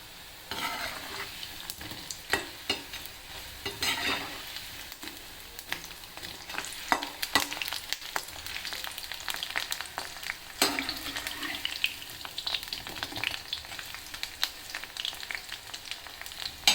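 Pakoras for kadhi pakoda frying in hot oil, a continuous crackling sizzle with scattered pops and occasional stirring scrapes, close and steady throughout.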